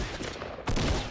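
Gunfire in Fortnite, a short burst of game shots that cuts in abruptly and grows louder partway through the brief moment.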